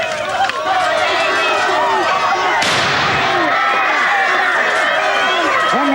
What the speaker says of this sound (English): Prepare to fire gas. One round, CS gas,